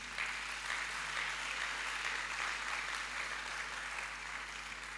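A church congregation applauds to acclaim the Lord during a Sunday service, a steady, dense wash of clapping that holds for the whole stretch without pause and with no talk over it.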